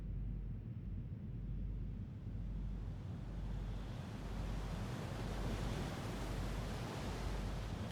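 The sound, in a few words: waves thrashing and wind howling at island coast cave, video game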